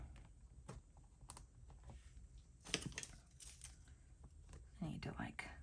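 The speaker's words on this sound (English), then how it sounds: "Rip a little bit more off." Paper being torn off during a planner set-up, giving scattered crisp rips and crinkles close up, some louder bursts near the middle and end, with faint background noise and no speech.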